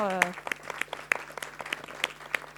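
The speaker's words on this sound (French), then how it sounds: "On peut vraiment les applaudir" Conference audience applauding debate panelists on innovative agriculture, a steady round of clapping with sharp individual claps standing out, briefly under a voice at the start.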